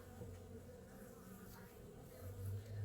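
Honeybees hum at the hive in a dense, continuous drone nearby, many wings buzzing together with a low, swelling intensity.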